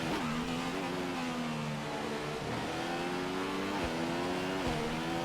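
In the F1 2015 video game, a Formula 1 race car at the British Grand Prix revs and accelerates through the gears, a loud continuous engine whine rising and dropping with quick upshifts, with no talk over it.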